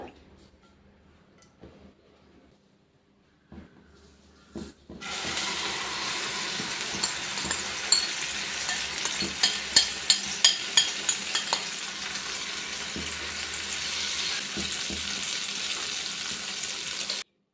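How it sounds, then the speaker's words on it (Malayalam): A mixture of greens and potato hits hot oil in a pan and sizzles steadily after a quiet start, with a few stirring clinks and knocks along the way; speech is heard briefly. "നന്നായിട്ട് മിക്സ് ചെയ്തിട്ട് നമുക്കിത് ഫ്രൈ ആക്കിയെടുക്കാം പാനിലേക്ക് എണ്ണ ഒഴിച്ചു കൊടുക്കുക"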